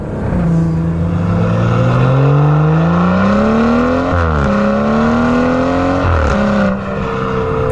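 A B58-swapped BMW 1-Series converted to M140i spec on a 118d LCI, driven on a highway: a loud in-cabin engine drone rises steadily under acceleration, dips briefly at two gear shifts, then climbs again.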